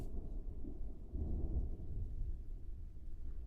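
A thunderstorm with rain outside produces a muffled, low, continuous rumble of thunder that swells slightly midway, heard faintly from indoors with no talking.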